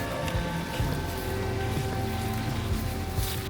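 Steady rain falls during a summer storm with the power out, a continuous dense hiss over a low rumble with no clear individual drops.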